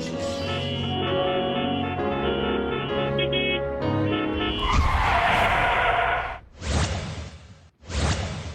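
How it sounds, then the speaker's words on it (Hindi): Cars brake suddenly on a road, the tires screeching loudly in a harsh noisy burst after a stretch of music, followed by two further short skids separated by near silence. "सड़क से गुजरते हुए अचानक गाड़ियों के ब्रेक लगाने की आवाज सुनकर सब चौंक कर देखते हैं"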